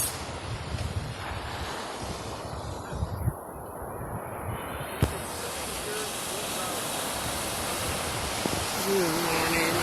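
Ocean waves at Malibu, California wash in a continuous broad hiss mixed with gusting wind noise on the microphone, with a faint voice underneath.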